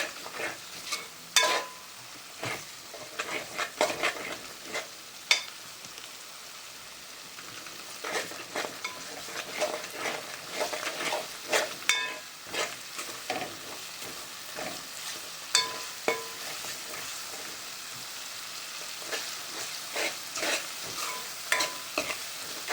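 Dry fish masala fries on a gas stove, a steady sizzle broken by frequent scraping stirs and the odd utensil clink, close and moderately loud with no talking.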